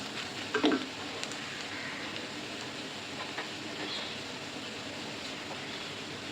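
Beaten eggs go into hot masala of onions and garam masala for Bombay-style egg bhurji, giving a soft, steady frying hiss with a brief louder splash near the start, fairly quiet and close, without speech.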